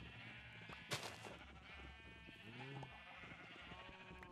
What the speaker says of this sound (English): Too many sheep.